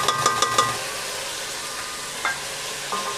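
Chicken fries in a pan for green masala pulao, giving a steady close sizzle with a few quick clinks of a spoon against the pan at the start.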